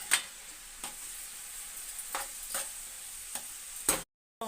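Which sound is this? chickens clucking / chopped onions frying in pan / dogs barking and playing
chopped onions frying in pan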